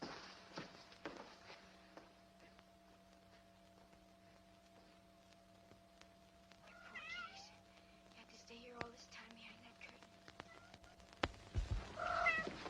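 A cat meows a few times in a scene from a 1947 film, the short cries faint and distant over a steady low hum.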